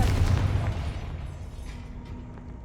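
A Confringo blasting spell in Hogwarts Legacy erupts as a single low explosion that starts loud and rumbles away over a couple of seconds with no voice over it.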